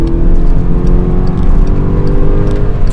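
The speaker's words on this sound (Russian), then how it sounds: "Сначала замеряю разгон до 100 без ланча" A Volkswagen Golf 6 GTI accelerates hard from a standstill toward 100 km/h without launch control, starting on a slight incline. The engine drone is loud, steady and rising, heard from close range with no talk.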